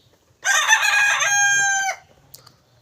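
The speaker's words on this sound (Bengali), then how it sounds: "অরিজিনাল মিশরি ফার্মি মুরগি" A rooster among young Egyptian Fayoumi chickens crows once, loud and close, a harmonic call of about a second and a half, followed by faint clucking in a quiet farmyard.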